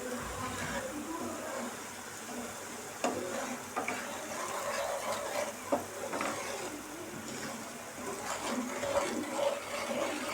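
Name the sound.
semolina (sooji) roasting in a pan on low flame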